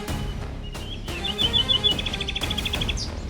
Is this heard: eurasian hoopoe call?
yes